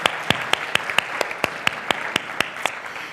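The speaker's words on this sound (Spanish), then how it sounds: "iba a pedir yo un aplauso, pero lo volvemos a repetir" Sparse audience applause at an anniversary event on international trade, several sharp individual claps in a quick irregular rhythm over about three seconds, fairly close.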